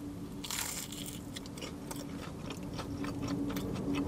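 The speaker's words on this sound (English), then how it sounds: "Let's go for a bite of it." Someone bites into a large, crispy battered spam fritter from a traditional fish and chip shop, sharp crunches followed by steady chewing, close and clear.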